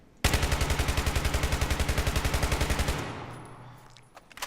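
Automatic rifle fire in Battlefield 3, a single sustained burst of rapid, evenly spaced shots lasting nearly three seconds, loud and close, then cut off with a fading tail.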